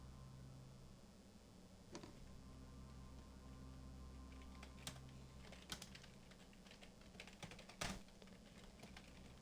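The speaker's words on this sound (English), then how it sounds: "Aggressive typing." Computer keyboard struck hard and fast in irregular bursts, with a few louder key slams standing out over a steady low room hum; no voices.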